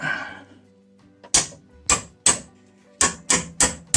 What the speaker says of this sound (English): I'm just using the tool like this with its seal puller, and I'll go in, grab it, and I will tap it here